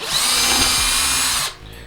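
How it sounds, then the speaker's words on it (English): Close, loud power drill whirring steadily as it bores a wire hole for model railway track, a sustained high-pitched motor whine that stops abruptly near the end. "Now I am drilling just wider than the wire that I plan on using itself."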